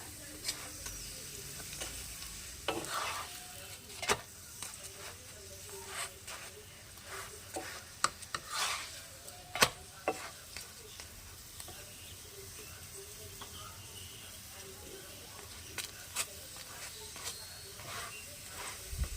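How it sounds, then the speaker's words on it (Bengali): Green pea paratha roasting in a pan, a soft steady sizzle with scattered light crackles and occasional scraping pokes, moderately quiet and close, no one talking. "যাতে কাঁচা না থাকে তাই জন্য একটু বেশি সময় ধরেই ভালো করে সেঁকে নিচ্ছি"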